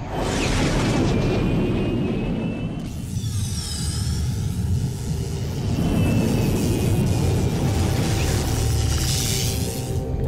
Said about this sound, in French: Et éloignons-nous de l'explosion